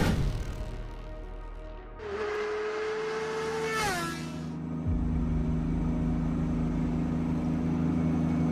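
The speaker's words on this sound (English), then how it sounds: "The two cars rev their engines and line up side by side at the starting line." A Porsche 911 and a Tesla Cybertruck at a drag-race starting line, with a rising whine and a rumbling engine rev building, then settling into a steady low idle hum, loud and close.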